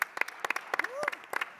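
An audience gives Dr. Bradley a hand with quiet, scattered clapping in loose bursts, and a brief voice rises in the middle.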